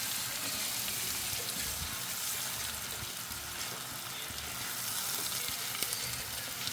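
A ground paste of coconut, ginger, green chilli, chilli powder and salt hisses in a hot pan while it is stirred, giving a close, continuous sizzle with no talking.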